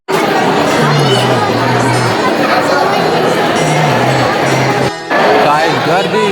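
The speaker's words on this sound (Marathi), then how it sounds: "काय गर्दी" Dense crowd at Sai Bhojanalaya, the temple dining hall in Shirdi, a loud close babble of many voices with children's shouts, nearly continuous apart from a brief dip near the five-second mark.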